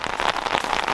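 Rain pours steadily outside a greenhouse, a dense, continuous patter of drops hitting surfaces close by, with no voices over it.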